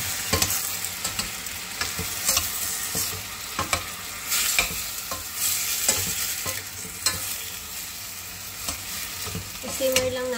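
Tomato hits browned garlic in a hot pan, sizzling and frying steadily while a utensil stirs and scrapes in irregular clicks, close up, with no talking.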